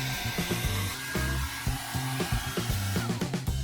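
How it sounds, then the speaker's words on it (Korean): A hair dryer blows close by to dry hair after an ice-water shampoo, a steady whooshing drone whose airflow pulses unevenly as it is moved about. "드라이기를 사용해 머리도 잘 말려줍니다"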